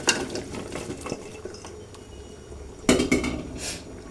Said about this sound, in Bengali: সবজিগুলো দিয়ে দিচ্ছি এখন।